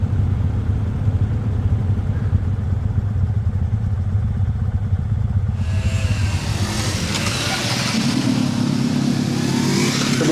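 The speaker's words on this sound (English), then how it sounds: "it looks like I'm about to join a motorcycle gang" Motorcycles on a Japanese mountain road, engines revving and accelerating with steady mid-pitched droning and clatter, loud and close, the whine rising sharply partway through as riders pull away.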